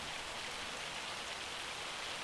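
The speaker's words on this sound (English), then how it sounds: "Oh, we've got some hail coming down now." Hail falling in a farming simulator game, a steady dense hiss of pelting ice on surfaces, continuous and even throughout with no talk.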